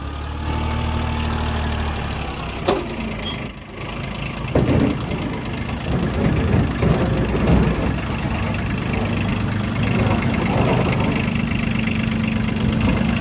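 A tractor engine runs steadily for the whole stretch, a low idling rumble that swells a little louder midway as it works under load lifting the loader.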